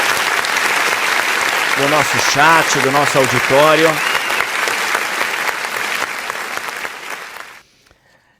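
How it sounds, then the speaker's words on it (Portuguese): An audience applauds loudly and steadily, with a voice speaking briefly over the clapping before it fades out near the end. "Receba os aplausos aqui"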